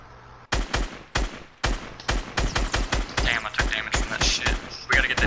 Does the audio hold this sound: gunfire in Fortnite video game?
yes